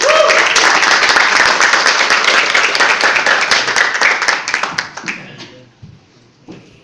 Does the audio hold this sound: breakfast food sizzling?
no